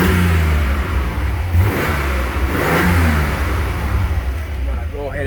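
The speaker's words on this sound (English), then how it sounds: "Let's listen to this engine." An Opel Lotus Omega's engine revs up and settles back, close by and loud, with the throaty rise and fall of a throttle being blipped.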